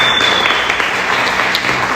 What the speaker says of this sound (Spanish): Yo creo que le den un fuerte aplauso a Dios por la vida de Lore